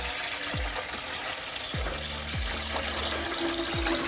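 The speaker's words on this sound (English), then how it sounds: "We're gonna fill the bottom of our canner with water." Water pouring steadily into a metal pressure canner, a continuous splashing rush with occasional low gurgles and thuds, close by.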